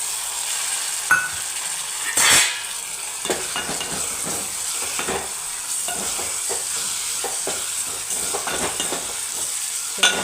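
Roasted brinjal bharta is stirred in a hot pan, a steady low sizzle broken by intermittent scraping and clacking strokes of the spoon against the metal.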